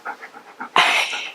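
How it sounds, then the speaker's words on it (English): A puppy pants close to the mic in quick, rhythmic breaths, then gives a louder, breathy burst that carries on as heavier panting. "if you hear panting, it's the puppy."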